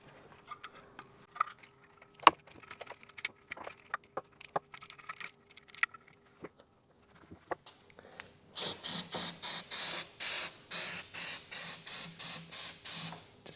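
Brake cleaner is sprayed onto an aluminium Kia/Hyundai V6 engine surface in a rapid series of short, loud hissing bursts, preceded by scattered faint clicks and scraping taps from nearby work.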